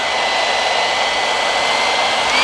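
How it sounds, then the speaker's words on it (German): A hair dryer running off an Anker 555 portable power station blows outdoors, a loud, steady, close whoosh with a faint high whine, continuous with no talk. "Und euch schön die Haare föhnen."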